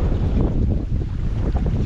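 Steady wind rushes over the microphone aboard a sailboat entering port under sail with no engine running, a small gust of around 13 knots. Close, continuous and loud, with water noise beneath the wind.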